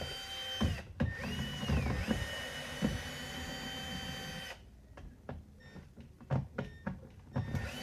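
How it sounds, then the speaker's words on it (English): A power screwdriver backs out the four screws from the underside of a Sebo X4 upright vacuum: a steady motorized whir for several seconds, then a string of sharp clicks and taps as the screws come loose. "there's 4 screws down in here. You want to just remove those."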